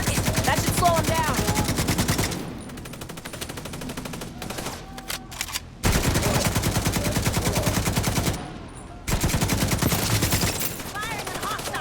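Sustained automatic gunfire at hostiles in The Division 2, loud, dense rapid bursts with two brief pauses, close and continuous with no talking.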